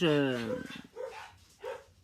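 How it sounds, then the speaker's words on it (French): A dog, one of two that don't get along, gives a drawn-out whining yelp followed by two short barks, fairly close, with a few quieter vocal sounds between. "les chiens qui s'entendent pas bien"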